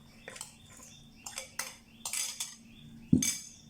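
A spoon stirs chicken, onion, coriander and chili together in a bowl, giving soft, close scrapes and light clinks at an irregular pace, ending in one sharper knock against the rim.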